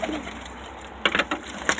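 Show pigeons in a crowded loft give soft, low cooing and murmuring close by, with a few brief flutters and shuffles breaking in near the end, and no talk.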